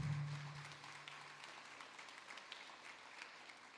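Applause from a church congregation at a united evangelical service, a broad, steady wash of clapping that fades slightly but stays even throughout, with no voices.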